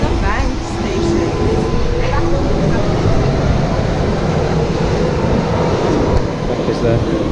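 A loud underground train rumbles steadily near a bank station, a continuous roar of wheels and carriages with brief squeals, while people talk faintly beneath the noise.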